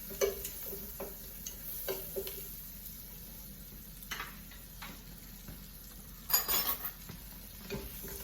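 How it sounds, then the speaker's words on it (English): Butter goes into a pan for mussels, with soft clinks of a utensil against the pan and faint sizzling, scattered light taps over quiet stove noise. "and putting the butter in"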